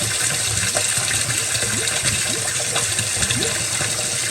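A basement sump pump pulls floodwater out of the sump with a steady, close gushing and sloshing flow that runs without a break, plus a low hum under the water noise.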